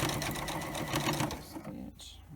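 Sewing machine stitching down face mask pleats, a fast rhythmic mechanical whirring close by that slows and stops near the end, with a voice talking over it.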